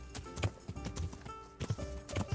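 Horse hooves clip-clop at a quick, even gait in the medieval video game Kingdom Come Deliverance, close and moderately loud over a brief stretch with no talk.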